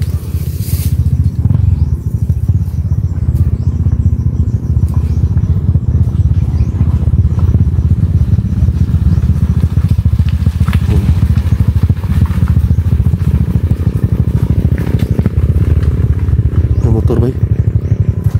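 Motorcycle engine droning and rumbling steadily at close range for the whole stretch, with people talking and outdoor clatter mixed in.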